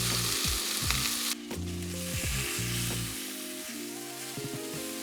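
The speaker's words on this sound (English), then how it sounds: "everything's starting to sear and char quite nicely" Chilies and oyster mushrooms sizzling in a hot pan for a noodle dish: a loud, continuous close hiss of frying with a steady musical backing throughout.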